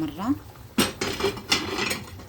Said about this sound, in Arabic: نحركو هكا باش ما يلصقش الصدر